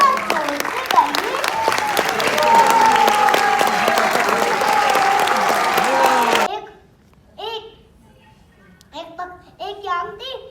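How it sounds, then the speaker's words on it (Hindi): Audience at a spiritual class at ISKCON Juhu clapping steadily and loudly for about six seconds, then it cuts off and a voice speaks. "थोड़ा तालियों तो बजाइए, तालियों"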